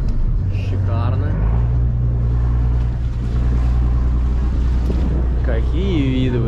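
A private yacht sets off to sea on a Turkish boat trip near Alanya, its engine a steady low drone under wind and water noise while people talk throughout.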